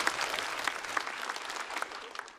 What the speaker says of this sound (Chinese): 我们都把掌声送给今天表演的8位。